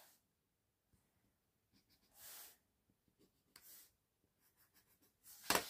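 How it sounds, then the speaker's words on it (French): A pencil makes a small mark on paper during a sakura-themed manga paper craft album project, giving a faint, brief scratch among soft rustles, with a couple of louder scraping strokes. "je me fais une petite marque au crayon à papier"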